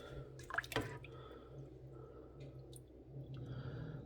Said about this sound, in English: time to pour some of the compote